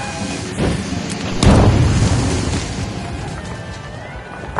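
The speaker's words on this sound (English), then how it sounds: "Throwing goo grenade!" A goo grenade bursts with a heavy boom in a PS5 game, one loud deep blast rolling into a rumbling tail, following a smaller thump just before.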